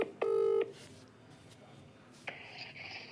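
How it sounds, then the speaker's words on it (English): A telephone keypad sends a short sequence of DTMF dialing tones at close range, followed by quiet line noise and a brief electronic beep tone as the call back to a number connects. "So let's try calling back, see if he already knows he's won."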